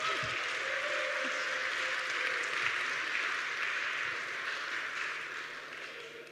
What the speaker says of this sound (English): that's why you cheer